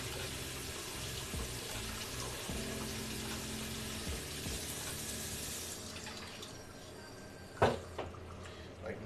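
Water runs steadily from a tap while tahini sauce is thinned for falafel, a soft continuous trickle with a brief clatter near the end and no voices.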